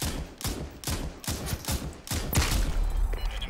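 Gunfire cracks in the Super People battle royale game, a rapid string of about six loud shots at a steady rhythm, each with a short echoing tail, no voices.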